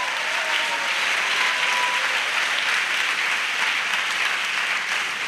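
A church congregation claps as an offering to Jesus during a French and English sermon, a loud, dense, sustained wall of applause with no speech.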